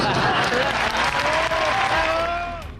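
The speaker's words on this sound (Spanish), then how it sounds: "de veras un gran aplauso." Theater audience applause for a dance company at a gala, a dense roar of clapping with a voice speaking over it that tapers off at the end.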